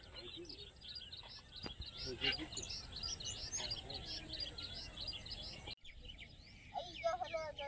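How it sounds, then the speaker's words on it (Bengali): Many birds chirping and singing in the countryside on a sunny, lightly foggy morning with cows grazing nearby, with quick overlapping tweets and calls near and far and a brief drop partway through. "চারিদিকে শুধু পাখির কলতান এখানে মানুষের কোনো কোলাহল নেই আছে শুধু পাখির কলতান"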